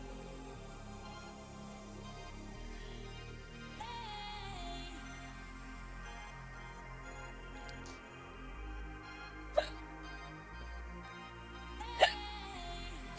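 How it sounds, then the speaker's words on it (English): Drunk hiccups from a man, two sharp isolated bursts a few seconds apart over a low steady background hum, with no talking in between. "Got the hiccups."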